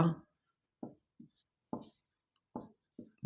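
Chalk or marker strokes on a board during a grammar lesson, a series of short scratchy bursts spaced by pauses, close and fairly quiet with no talk over them.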